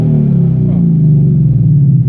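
Engine of a 2015 Ford Mustang GT with a Flowmaster Outlaw exhaust revving, held back by a rev limiter near 3,500 rpm, giving a loud, steady deep drone throughout with a slight pitch dip midway.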